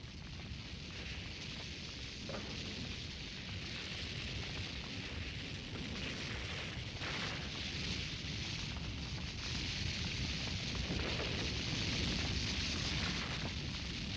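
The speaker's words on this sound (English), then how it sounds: "He says you must keep the fire burning for another 24 hours." A cartoon fire burns in a constant, dense roar with crackling and rumbling, steady and loud throughout with no pauses.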